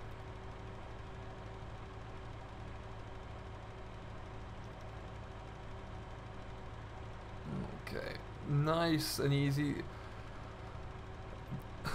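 A Massey Ferguson tractor idles in the Farming Simulator game with a low, steady diesel drone. Someone speaks briefly over the engine near the end.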